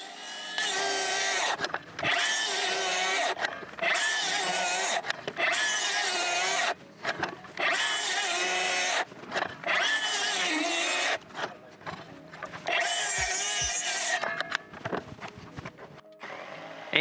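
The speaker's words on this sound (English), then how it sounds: "I cannot say enough good things about this little Milwaukee jigsaw" A compact Milwaukee jigsaw fitted with a Diablo blade cuts wooden stair parts, its loud buzzing rasp running in repeated bursts of one to two seconds separated by short pauses, close up.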